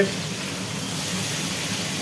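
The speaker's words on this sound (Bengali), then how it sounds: "আর এদিকে মাংস ভাজা হচ্ছে" Chicken pieces fry in a pan with a steady, close sizzle and hiss, continuous and fairly loud, no voices heard.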